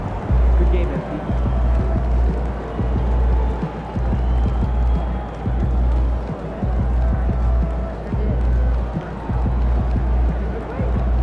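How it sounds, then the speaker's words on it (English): A loud basketball arena crowd in the NBA 2K25 video game roars in a constant swelling wash, with commentary voices running over it. "Surprisingly loud crowd tonight."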